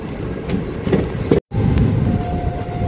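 A Vande Bharat Express train passing in the distance during heavy rain near Bardhaman, its steady rolling rumble continuous apart from one brief dropout.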